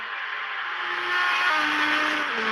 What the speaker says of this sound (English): We have the final car crossing the line.